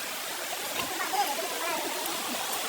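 Water flows in a stream at a river bathing spot, a steady close rushing and gurgling wash, moderately loud with a faint voice mixed in.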